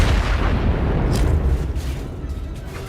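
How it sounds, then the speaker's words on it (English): Rocket launcher blast in the video game Star Wars Zero Company, a loud, sustained roaring explosion with heavy low rumble that fades slowly over a few seconds. "let's just shoot the damn rocket launcher"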